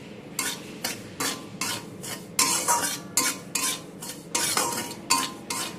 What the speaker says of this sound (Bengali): দু মিনিট নাড়াচাড়া করে সুজিটাকে আমি একটু অল্প ভেজে নেব।